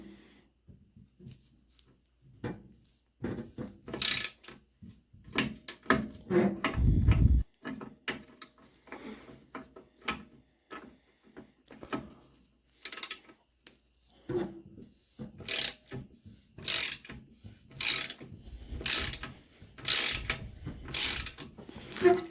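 A ratchet tightens a part on a 1992 Trek bicycle being rebuilt as a custom cruiser, with bursts of sharp clicking and metallic mechanism noise, spaced irregularly amid pauses and a few heavier clunks.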